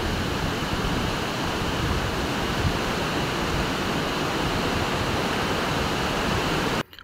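River water rushes close by in a steady, unbroken broadband wash that stays at the same level throughout and stops abruptly at the very end, with no one speaking.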